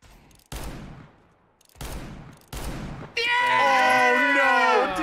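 Rapid gunfire in Counter-Strike 2 arrives as three sharp, loud bursts with decaying tails, followed by a loud, strained voice shouting over the end.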